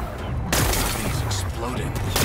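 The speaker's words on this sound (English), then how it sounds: "Gotta blast away some rocks so I can expose the power cell." Loud, continuous blasting and crackling as rocks are blown apart in the video game Horizon Forbidden West, with a sharp explosive burst partway through and another near the end.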